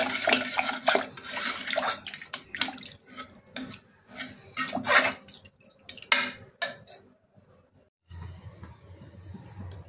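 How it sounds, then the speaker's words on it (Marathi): Cooked taro leaves are whisked in a pressure cooker, giving quick bursts of metallic clinking and wet sloshing in irregular strokes that stop near the end, followed by a quieter low hum. "आता आपण थोडंसं असं फेटून घेऊयात फक्त"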